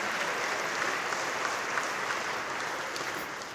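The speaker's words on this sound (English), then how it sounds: "So give yourselves a round of applause for your generosity already," Audience applause at a school district jazz band concert, a steady dense wash of many hands clapping at even volume throughout, with no talking over it.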